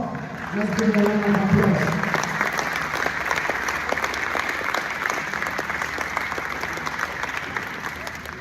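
An audience at a community program claps in continuous, dense applause that holds at an even level throughout. A brief tonal sound rises near the start.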